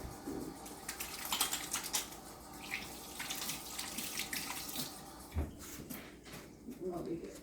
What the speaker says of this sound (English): but first I need to wash my hands